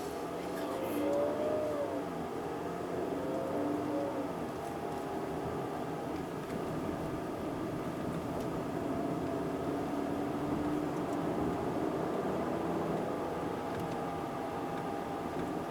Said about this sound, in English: Well, I kind of like that sound. It sounds so different from other cars nowadays.